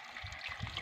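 Water is poured onto a young amla tree, a brief, faint splashing trickle lasting under a second, heard quietly without any talking.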